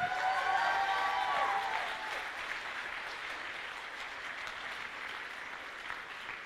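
Audience applause at a cosplay contest during a Swiss fantasy convention, a steady wash of clapping that starts fuller and settles to a quieter, even patter, heard from a distance with a musical tone fading early on.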